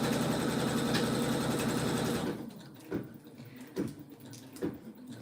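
An embroidery machine stitches an outline around an in-the-hoop zipper bag, a fast rhythmic whirring for about two seconds that stops abruptly, leaving a few soft clicks and handling sounds.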